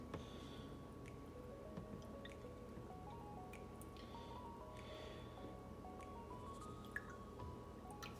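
Almond milk is poured into a cup of black tea for simple chai milk tea, a faint, soft liquid stream with light dripping and no voices.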